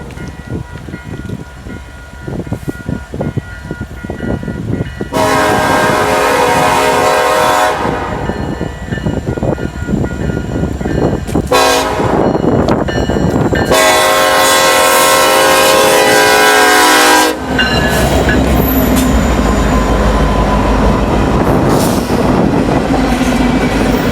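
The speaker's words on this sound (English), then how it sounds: "NS 2770, a newly reactivated SD70 M-2, leads an eastbound local into the Burns Harbor Yard." An NS SD70M-2 diesel locomotive leads an eastbound local freight into a rail yard, sounding two long, loud horn blasts over the rumble and clatter of passing cars nearby.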